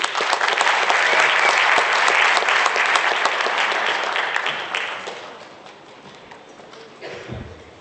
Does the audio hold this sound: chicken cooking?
no